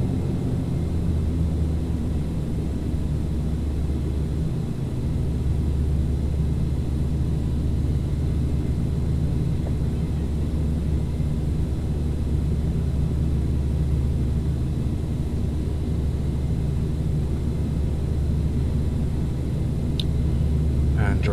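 The turboprop engines of a Carenado Fokker 50 at climb power in the Prepar3D v4 flight simulator, a steady, loud droning rumble that holds unchanged throughout, with a voice occasionally speaking over it.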